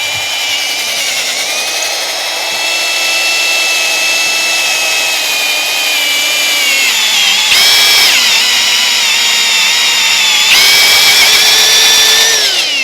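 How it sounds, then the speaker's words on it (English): A Matco HyperStep step drill bit bores into fiberglass with a loud, continuous high-pitched whine that shifts pitch as the bit steps through, rising sharply twice as it bites deeper, close and alone without talk. "Let's try to rock it around, let that drill head, you know, get in there."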